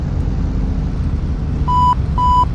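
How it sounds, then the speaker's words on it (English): Two evenly spaced electronic beeps sound as the autopilot disengages in the Prepar3D flight simulator, clear steady tones over a constant low engine rumble. "those beeps were the autopilot being disengaged"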